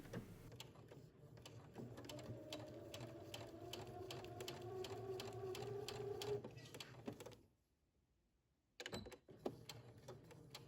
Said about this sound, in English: you're going to stitch right across the placket